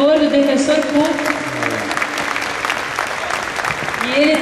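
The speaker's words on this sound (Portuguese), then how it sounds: "Eu gostaria de pedir uma salva de palmas" An audience applauds public defenders at a legal panel on the Brazilian prison system, a steady wash of clapping lasting the whole moment while a voice carries over it.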